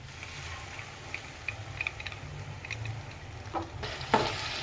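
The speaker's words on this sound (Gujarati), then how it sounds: "હવે આપણે ટમેટાની પેસ્ટ નાખી દઈએ." Tomato paste sizzles and fries in a pan of onion, ginger and chilli gravy for a countryside-style chickpea curry, a soft, steady crackle with occasional stirring scrapes and clinks toward the end.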